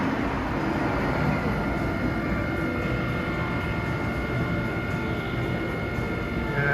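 An electric passenger train stands at Newark Penn Station during evening rush hour, giving off a steady low rumble and hum from nearby equipment that stays constant throughout, with no speech.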